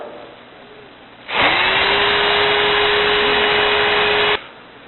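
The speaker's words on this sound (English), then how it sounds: "I'm supporting the drill on my body." A power drill whirs loudly and steadily for about three seconds, its pitch rising as it spins up, with a gritty sanding rasp against a wooden mug underneath, the drill braced against the body with light pressure.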